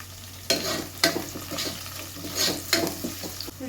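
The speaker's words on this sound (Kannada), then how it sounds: "ಇವಾಗ ಈರುಳ್ಳಿ, ಕರ್ಬೇವಿನ ಸೊಪ್ಪು, ಹಸಿಮೆಣಸಿನ್ಕಾಯಿ ಇಷ್ಟನ್ನು ಹಾಕ್ತಾ ಇದ್ದೀನಿ." Onions, curry leaves and green chillies dropped into hot oil with cashews, giving a steady close sizzle broken by a few louder stirring scrapes of a spoon in the pan, with no voices.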